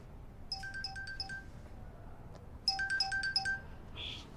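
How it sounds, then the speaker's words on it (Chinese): A mobile phone ringtone chimes in two bursts of quick, bright repeated tones, fairly faint in a quiet room during a Chinese TV drama scene, with a brief pause between rings. "不好意思，我接个电话。"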